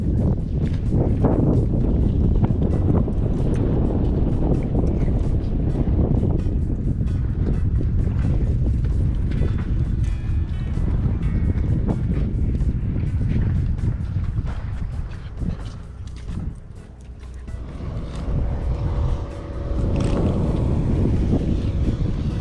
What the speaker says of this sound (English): we got boats and stuff flying up and down